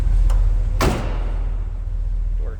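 Car door on a 1970 Pontiac Bonneville convertible shutting with a single solid thud, close by over a low background hum, after a faint earlier click.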